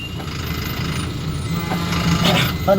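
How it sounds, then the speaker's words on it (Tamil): Heavy road traffic with trucks sends up a dense, continuous rumble of engines and tyres, rising slightly in loudness as vehicles pass close by. "பயங்கர டிராஃபிக்."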